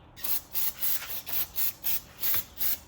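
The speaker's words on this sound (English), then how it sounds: "what I'm using for that is just carburetor cleaner" Carburetor cleaner sprayed onto a stuck electromagnetic brake part from a Hoveround wheelchair: about nine short, loud hissing spray bursts in a steady rhythm, close up with no talking.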